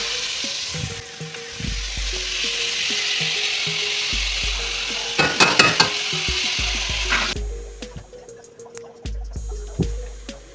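Ground beef sizzles steadily in a hot pan while a utensil scrapes and stirs through it, with clanking knocks and scraping strokes; the frying hiss carries loud throughout and eases off near the end.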